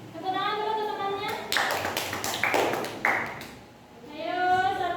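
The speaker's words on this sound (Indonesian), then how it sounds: "Tepuk tangan dulu untuk temannya." A classroom of students claps for a group that has just presented, a short burst of scattered hand claps and taps between spoken voices at the start and end.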